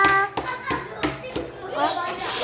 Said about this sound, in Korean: 자, 우리 박수 쳐주자.